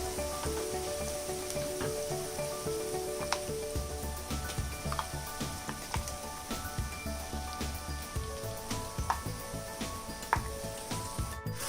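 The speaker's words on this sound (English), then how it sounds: "The onions are half cooked and now I will be adding the mutton." Marinated mutton hits half-cooked frying onions in a hot pan, setting off a loud, dense sizzle with crackling pops and occasional stirring clatter, heard close and without talk.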